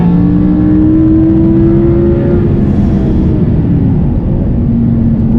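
Naturally aspirated Audi R8 engine revving hard on a race track, a loud sustained roar with climbing pitch through the gears and a brief dip around a shift, heard close from inside the car without talk.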